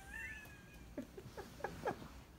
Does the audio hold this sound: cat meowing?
yes